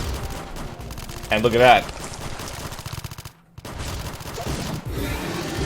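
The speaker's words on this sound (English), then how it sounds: "Sounds like gunfire and a Metroid being attacked." Rapid bursts of sci-fi gunfire alongside the shrieks of a Metroid under attack in AM2R, loud and close, with a brief louder cluster near the start and a short silent gap midway; someone speaks briefly over the action.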